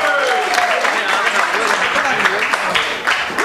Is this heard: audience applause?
yes